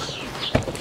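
Horse hooves clip-clop on a farm barnyard, a few nearby steps landing in a short cluster against quiet outdoor background.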